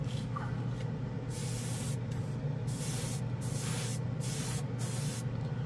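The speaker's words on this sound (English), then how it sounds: "Look at how good this thing sprays." A Testors Aztek plastic airbrush sprays paint inside a spray booth, a soft hissing spray in several bursts separated by short pauses over a low steady hum.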